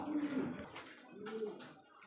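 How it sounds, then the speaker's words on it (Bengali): Lakkha pigeons coo twice in a short, soft, low burst, a pause between the two calls, with faint background noise and no talk. "সুপ্রিয় দর্শক দেখতে পাচ্ছেন এখানে কিন্তু আরো একজোড়া কিন্তু লক্ষা কবুতর"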